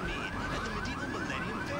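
Car alarm in the video game GTA III, wailing in quick repeated sweeps over busy traffic and engine noise, steady and sustained without pause.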